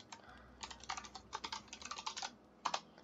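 Typing a command on a computer keyboard during Minecraft play, a quick irregular run of clicky keystrokes in two bursts with a short pause between them, close and clear over a quiet room.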